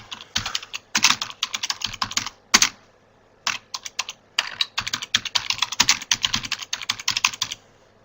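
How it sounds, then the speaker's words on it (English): Fingers type a message on a computer keyboard: close, crisp bursts of rapid key clicks broken by short pauses and a few louder thumps, with no talking. "I'll just type it out."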